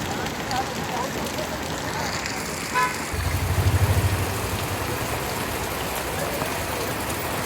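Continuous rain patter on a road in Sakleshpur during flooding, while a brief low rumble, like a passing vehicle, swells in the middle.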